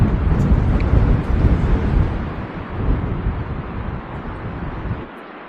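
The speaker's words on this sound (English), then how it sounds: "Pretty windy." Strong wind roars across an outdoor fishing spot during a solo overlanding trout trip, a steady broadband buffeting on the microphone that surges and eases before dropping off near the end.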